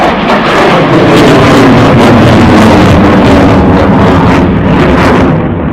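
Twin engines of an Italian Air Force Eurofighter roar at maximum thrust through a vertical pull-up at an air show in Radom, Poland, a loud, sustained broadband rumble with wind buffeting the microphone.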